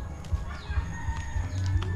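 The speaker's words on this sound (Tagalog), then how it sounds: "may manok dito ang panabong." A fighting rooster crows nearby, a drawn-out call over steady outdoor background noise.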